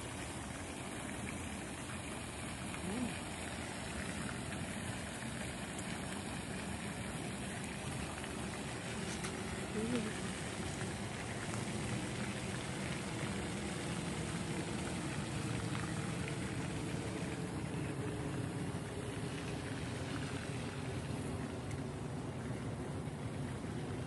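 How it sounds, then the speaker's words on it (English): Small waterfall on a nature preserve trail along a creek greenway, a steady broadband rush of falling water that stays even and fairly close throughout, with no talking. "There's a little waterfall"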